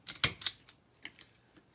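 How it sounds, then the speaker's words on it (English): A zip tie gun used on a large mesh craft flower gives several sharp mechanical clicks and snaps close by, bunched at first, then trailing off into a few fainter ticks. "let me test out my zip tie gun."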